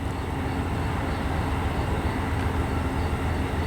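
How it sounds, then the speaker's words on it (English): A steady, continuous low rumble of an Amtrak passenger train passing at a distance near Lock 28 at Yankee Hill, alone without talk. "That's the Amtrak train that's going to be in the Fonda video."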